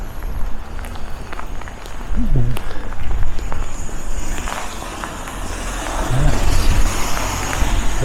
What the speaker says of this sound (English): 3 police vehicles.